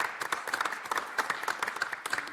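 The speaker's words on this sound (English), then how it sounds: "that probably deserved a round of applause" Brief round of applause at a school board of education meeting, a small group clapping steadily at moderate distance for a couple of seconds.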